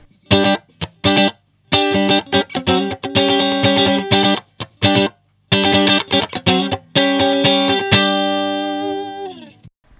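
An electric guitar played through an Xotic SP Compressor pedal with its high cut filter on gives loud, evenly squeezed chords and riffs in choppy bursts, ending on a long sustained chord that slowly fades, with no one talking.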